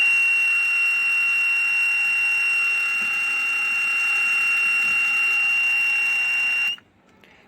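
A loud, steady electric buzzer drones continuously for several seconds at a constant pitch, then cuts off abruptly near the end.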